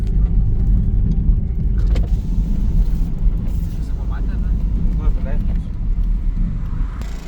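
A car driving slowly, its low engine rumble and road noise steady and close from inside the cabin, with people talking over it.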